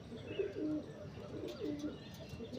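Malayali pigeons kept for sale coo in two low, soft phrases close by, a steady murmuring rhythm with faint chirps behind.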